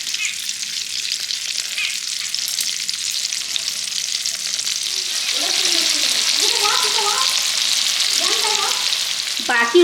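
Herbal hair oil heating in a hot iron kadai on a low flame, a loud, steady, close hiss and crackle that holds throughout while a voice talks over the second half.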